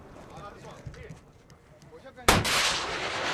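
Military rocket or artillery fire in a conflict zone, a sudden loud blast near the end that rolls into a sustained roar after a stretch of quieter background.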